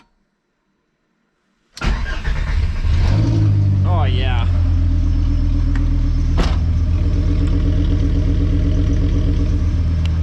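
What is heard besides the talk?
VW MK4 Bora Wagon VR5 engine running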